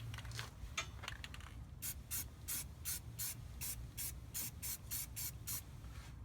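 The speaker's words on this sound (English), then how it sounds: "we're going to take a can of paint and seal her up" Short, even hissing bursts from a spray paint can sealing a leaf spring bolt pocket against rust, fired in a steady rapid series after some rubbing and scuffing, soft and close with no talk.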